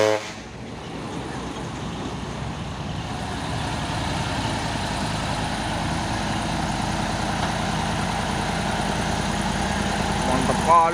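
A CPO tanker truck with a raised exhaust stack rumbles steadily, its engine drone holding at a constant loud level throughout while someone talks over it.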